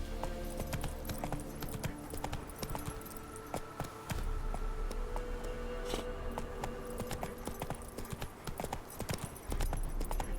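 Hooves of Roach, Geralt's horse in The Witcher 3 video game, clip-clop steadily and close throughout, with faint jangling tack and ambient game sound beneath.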